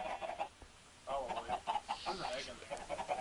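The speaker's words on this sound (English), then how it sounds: "Look at all the chickens." Chickens cluck in a busy, continuous run of short, overlapping calls, moderately close, with brief pauses between bursts.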